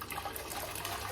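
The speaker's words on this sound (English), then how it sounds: "so let's pour this in this pot" Liquid poured into a pot of diced potatoes gives a steady, soft rush of splashing and gushing, close and fairly quiet, with no one talking.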